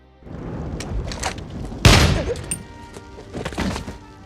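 A sudden loud boom from an explosion inside a building bursts out midway in an action film, preceded and followed by rumbling, scattered thumps and crackling noise.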